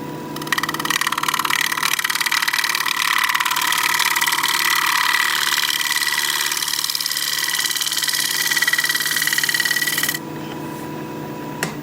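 A wood lathe scraper cuts an alder live-edge bowl, giving a continuous bright rasping whir with a steady chatter from the spinning blank, close and fairly loud, then cutting off abruptly near the end.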